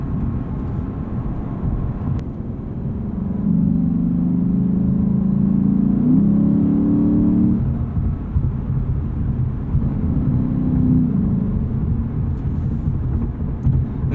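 A 2020 Lexus RC F cruises at speed, its engine a steady low drone with a swell of louder exhaust and road noise in the middle before settling back to a smooth, even hum.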